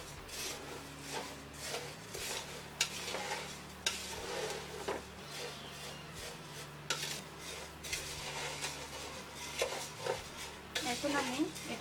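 Spiced puffed rice being mixed in a pan over very low heat, with dry rustling and scraping strokes of a spoon against the metal, fairly quiet and close over a faint steady hum.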